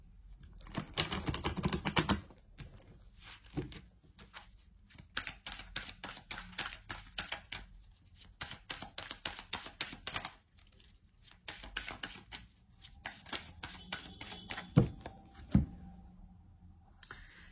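Tarot cards being shuffled close up in a run of quick, crisp riffling bursts, broken by short pauses and a few sharper slaps as cards are drawn and laid down.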